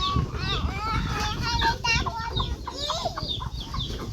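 Small chicks and hens cluck and cheep repeatedly at a farm in the evening, with a voice and other speech mixed in over steady background noise.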